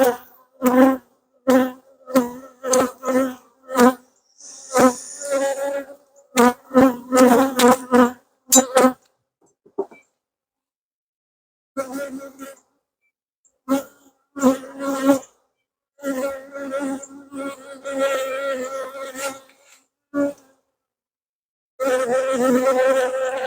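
Honey bees buzz during a hive inspection, a close, loud, wavering hum that comes in bursts with short gaps and silent breaks, the insects passing near the ear.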